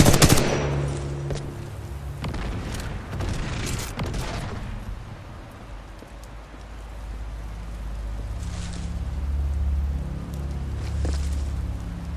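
Automatic gunfire from the shooter game Titanfall 2 rattles loudly in dense bursts over the first few seconds, then continues as a lower, rumbling barrage with scattered shots and booms.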